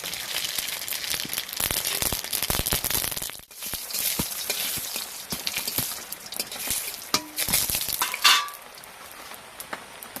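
Mustard seeds frying in mustard oil, a dense crackling sizzle with rapid pops, mixed with clinks and scrapes of a utensil against the pan, close and continuous.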